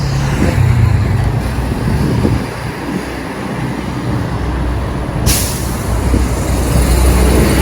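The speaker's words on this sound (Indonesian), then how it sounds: "Ini dipenuhi oleh bis-bis pariwisata nih daerah sini" Tour buses and other traffic rumble steadily along a busy Beijing street near old city buildings, with low engine drone throughout and a brief hiss like an air brake release midway.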